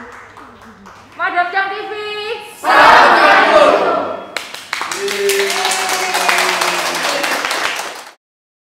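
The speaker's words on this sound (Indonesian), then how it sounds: "Tepuk tangan dong buat Papa Chang" An audience claps and cheers in a noisy burst of applause with crowd shouts, preceded and overlapped by someone talking loudly, then fading out abruptly.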